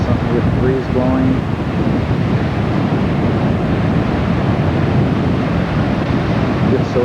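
Steady wind noise rolls over a beach at night with ocean surf washing in the background, a continuous windy rush from start to finish.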